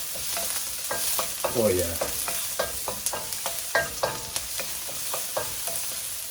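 Chopped garlic hits a hot pan of onions for a vegetable stir fry, sizzling steadily while a spatula scrapes and taps in quick, irregular strokes; a voice briefly speaks over it.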